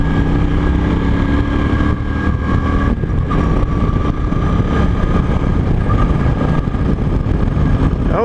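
Cruiser motorcycle engine on a first ride, running steadily and loud throughout with a constant low rumble and sustained engine hum, close by, with no talk.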